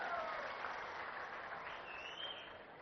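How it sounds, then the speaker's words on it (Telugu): Audience applause fills the air at a Swarna Andhra - Swachh Andhra programme at an outdoor public event, a dense, steady wash of many hands clapping that fades gradually. "వాళ్ళు గట్టిగా చప్పట్లు కొట్టి అభినందించండి."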